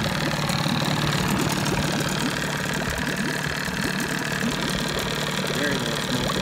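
A 1987 Johnson 9.9 hp outboard motor idles smoothly and steadily at close range, with a constant low mechanical hum throughout.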